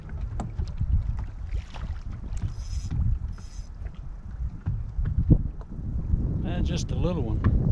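Strong wind gusts buffet a small fishing boat on a lake, with steady broadband rumble and microphone wind noise throughout, someone talking over it and small splashes near the end.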